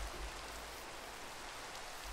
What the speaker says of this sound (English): It's night time, it's raining.